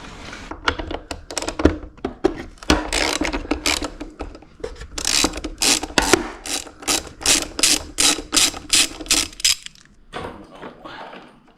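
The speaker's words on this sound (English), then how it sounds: "we got 3 Allen key bolts up in there, so we're going to undo them" A ratchet backs out three Allen key bolts on a Honda CRF 300L rear fender, giving close, bright rapid clicking in bursts with short pauses between turns.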